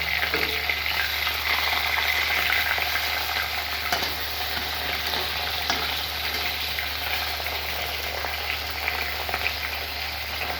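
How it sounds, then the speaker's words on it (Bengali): Fish fries lightly with vegetables in a pan, giving a steady, even sizzle that hisses on without a break, with a few faint clicks of utensils and no voices. "মাছটাকে একটু সামান্য ভেজে নিচ্ছি"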